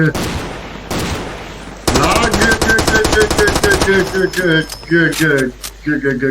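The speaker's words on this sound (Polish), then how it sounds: "sami do siebie strzelają?" Rapid automatic gunfire from a Far Cry 2 multiplayer match, loud and close, in dense repeated bursts with brief pauses, while someone talks over it.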